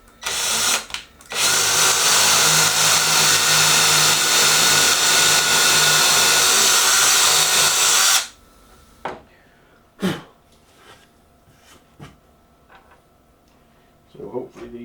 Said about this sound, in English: If I try and use this ancient Wolfcraft drilling guide, at least hopefully it should keep me fairly vertical.